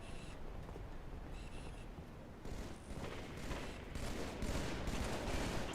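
Video game gunfire with a sniper rifle among other shots, a steady dense barrage of booming reports and crackling fire, loud and continuous, with no clear speech over it.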